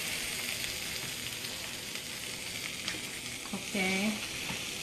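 Peppers sizzle steadily in a hot pan for vegan Spanish veggie paella, a constant close hiss of frying with a brief louder clatter near the end as they land or are shifted.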